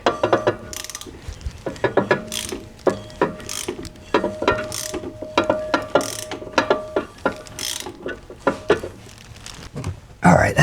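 Torque converter bolts being removed from an engine with a ratchet wrench, rapid repeated clicking bursts of the pawl, close and loud, with brief pauses between turns and a voice speaking in places.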